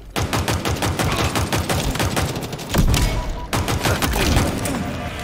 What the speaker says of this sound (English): this thing shoots automatic